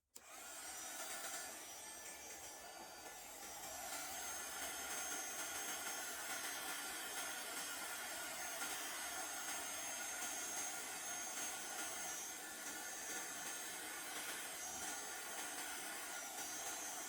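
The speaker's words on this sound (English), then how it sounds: "I'm going to try and use my heat gun to see if I can spread it around a little more." A heat gun blowing on poured resin for a velvet effect, a steady close airy whoosh that starts abruptly and holds at an even level throughout, faint overall, with no voices.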